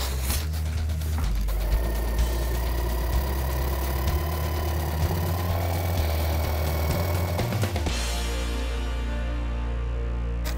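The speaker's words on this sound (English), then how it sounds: "Garth, and you've got your faithful jigsaw. Yep. And away you go." A jigsaw cuts through a panel with a steady, close buzzing whine that runs unbroken for about eight seconds, then cuts off abruptly, leaving quiet background.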